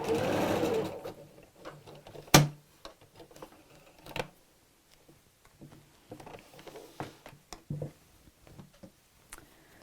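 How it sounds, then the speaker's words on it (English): A sewing machine stitches close to the edge of tote bag fabric in quick whirring bursts between short pauses, with a sharp click or two along the way. "So sew quite close to the edge, and these stitches will disappear inside your seam allowance."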